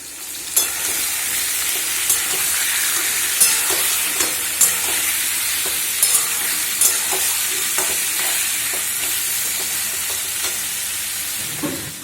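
Food fries and sizzles in hot oil in a home kitchen, a steady hiss broken by repeated sharp scrapes and clacks of a spoon stirring the pan. No one speaks.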